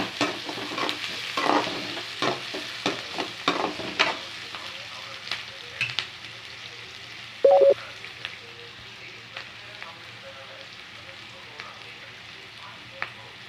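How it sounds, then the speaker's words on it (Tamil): Brinjal being sautéed in a pan for Tamil kara kulambu: a low sizzle under repeated quick scraping strokes of a spoon, busier at first, then sparser taps, with one brief louder clatter partway through. "அஞ்சு நிமிஷம் நல்லா வதக்கி விட்டுக்கோங்க"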